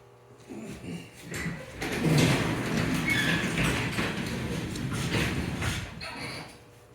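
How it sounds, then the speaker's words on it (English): A garage door rolls open with a steady rumbling, rattling slide that swells and holds for several seconds before easing off, moderately loud and continuous. "I'll open up the garage door."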